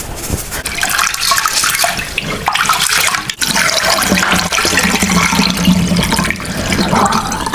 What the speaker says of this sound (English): So next I'm going to wash the rice.